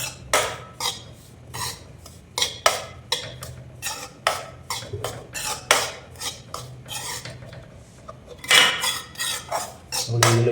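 A spoon repeatedly scrapes and clinks against a pan while roasted laddu mixture is stirred, a series of sharp metallic strokes in an uneven rhythm, loud and close.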